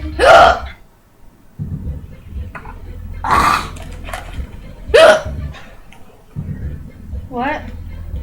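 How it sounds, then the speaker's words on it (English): Repeated hiccups, a few sharp voiced jolts spaced a couple of seconds apart, loud and close over a steady low hum, with a quieter voice between them. "I'm glad I gave you my hiccups."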